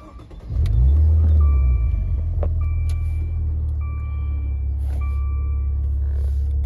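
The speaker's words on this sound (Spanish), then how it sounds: "Lo que voy a hacer es voy a arrancar el coche." A Maserati Ghibli with a 3.0 V6 starts up with a sharp rising surge, then settles into a deep, loud, steady idle rumble close by, while faint beeping chimes sound intermittently over it.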